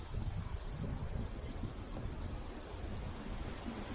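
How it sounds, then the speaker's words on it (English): Strong wind buffets the microphone in a continuous rumbling roar, steady and loud throughout with no voices. "Really windy."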